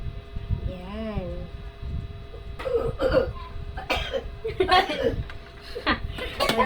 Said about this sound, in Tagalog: Inaatake pa ng ubo yung katabi ko.